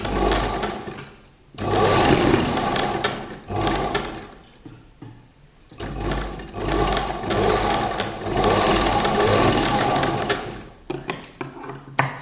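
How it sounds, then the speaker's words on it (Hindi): A sewing machine stitching seams on a girl's party-wear gown, close and loud whirring runs in several bursts separated by short pauses. "इधर भी हम ऐसे ही सिलाई लगा लेंगे।"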